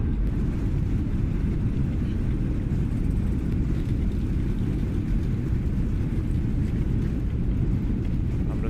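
A simulated Airbus A320 rumbles steadily through its landing rollout at El Alto in a flight simulator, a dense low roar of engine and rolling noise that holds constant throughout, no talking.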